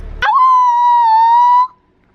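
A person imitates a wolf howling at the moon with one loud, steady, drawn-out howl lasting over a second, close up and alone, before cutting off abruptly.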